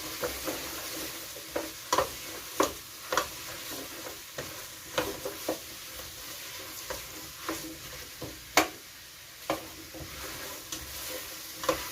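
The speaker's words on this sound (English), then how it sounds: "with some fine diced onion, green pepper, and yellow pepper. And I'm really just looking to brown everything, give it some color." Diced onion with green and yellow peppers browning in a pan for plant-based chili, a steady soft sizzle broken by repeated sharp scrapes and taps of stirring, close and alone.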